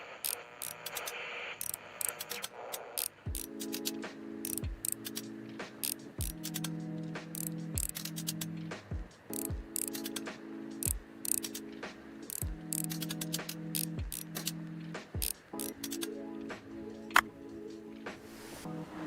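Screws being backed out one after another from an electronic gacha capsule machine, a steady run of small close metallic clicks and ratcheting ticks repeating throughout, with a faint hum underneath.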